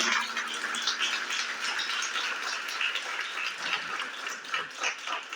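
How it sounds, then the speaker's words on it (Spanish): A church congregation at a Spanish-language service breaks into steady, dense applause, a continuous crackling wash of many hands clapping at a fairly even level with no voices standing out. "Ay, hay que darle un aplauso a Dios."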